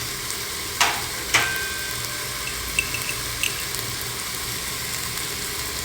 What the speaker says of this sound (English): Fry till the masalas are well blended with the tomatoes and onions also.